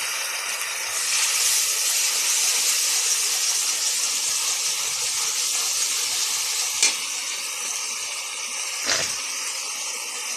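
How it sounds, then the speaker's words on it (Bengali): Mustard paste hits a hot pan of ginger, green chilli and cumin, giving a steady broadband sizzle that runs throughout, swelling early and marked by a couple of sharp spits later on. "এবারে আমি দিয়ে দেবো সর্ষে বেটে রেখেছিলাম"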